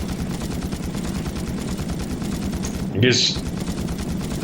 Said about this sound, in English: I'm shooting a giant hand monster man that is immune to fire, but not immune against bullets